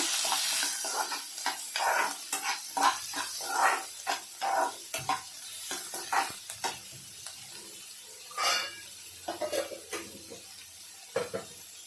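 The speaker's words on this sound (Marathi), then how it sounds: "आता आपण कांदा टाकून घेऊया कांदा चांगला लाल होईपर्यंत भाजायचा आहे" Onion frying in a pan for a drumstick vegetable dish, stirred with repeated scraping strokes over a constant sizzle, close and moderately loud without talking.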